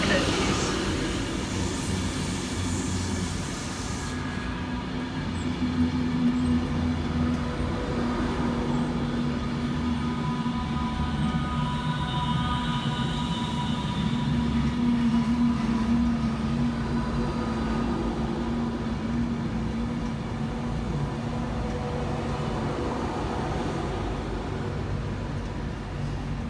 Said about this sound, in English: Next train out to depart is 390-010 with the 1532 Avanti West Coast service from Manchester Piccadilly through to London Euston